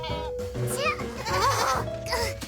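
Cartoon goats bleat in quavering, wavering cries, several calls overlapping, with a voice and background music mixed in.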